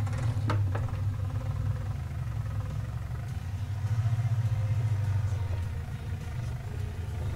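Deutz tractor engine in Landwirtschafts-Simulator 19 labouring in the wrong gear, a steady deep low rumble that swells and dips slightly without pause, with no talking over it.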